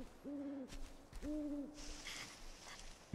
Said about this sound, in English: can hear the owl